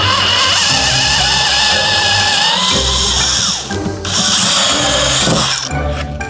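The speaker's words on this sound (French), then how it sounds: "on va prendre une mèche qui est plus grosse que celle qu'on vient d'utiliser. On va percer juste à côté." A power drill bores a hole in solid wood using a larger bit, a loud close whirring grind that holds steady, briefly dips, then surges again as the bit bites through.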